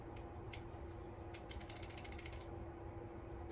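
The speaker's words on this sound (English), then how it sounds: "The starter motor sounds very rough when you're turning it over." A worn starter motor on a Piaggio Zip 70cc scooter turns over roughly, giving a steady, grinding mechanical whir with a ratcheting, gear-like texture throughout.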